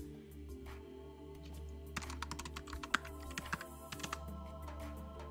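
Someone types a password on a computer keyboard, a quiet run of quick, close key clicks with one sharper tap in the middle, over faint room hum.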